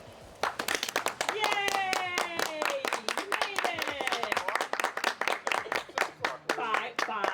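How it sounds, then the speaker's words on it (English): Several people clap in bursts near an approaching 12-foot alligator, the sharp claps running throughout under excited overlapping voices and chatter. "Because when he comes, we're all gonna applaud."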